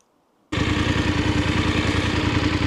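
A Voge 900 DSX motorcycle engine bursts into a steady, loud idle after half a second of near silence, a close, even mechanical rumble with a busy clatter running throughout.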